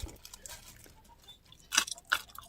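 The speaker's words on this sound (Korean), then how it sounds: "제가 한번 잘라서 먹어볼게요." Crisp bites and chewing of sugar-cured radish being made into pickled jangaji, a few sharp crunches up close that grow louder toward the end.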